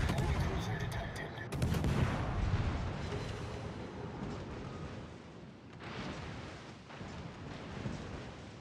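Warship guns fire in the naval video game World of Warships: Legends, with heavy, rumbling booms and blasts rolling over one another in a dense, continuous barrage.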